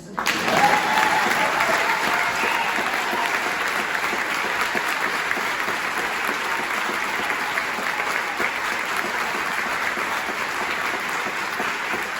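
An audience at a Christmas choir concert claps hands in a loud, continuous, even wash of applause that holds steady throughout.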